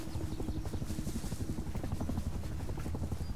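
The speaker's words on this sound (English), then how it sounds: "I wonder if that's that Chinook." A Chinook helicopter flying in a video game, a continuous rapid rotor chop with a low throbbing drone, loud and steady throughout.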